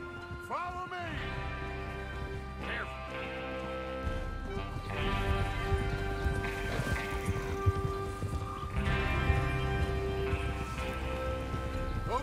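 Several horses ride through rain in Red Dead Redemption 2, continuous hoofbeats blending with a patter of rainfall and background music, with occasional speech.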